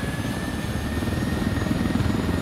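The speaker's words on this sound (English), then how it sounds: "Chopper inbound." A helicopter in the video game Ghost Recon Wildlands flies in, its steady rotor thump and engine drone loud and continuous throughout, with no voices.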